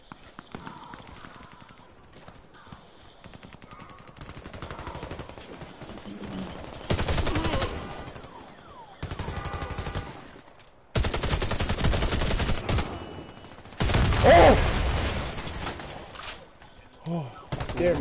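Automatic AK rifle fire in a shooter video game, loud sustained bursts repeating across the clip with short gaps between them, with some talk and game noise in the quieter stretches.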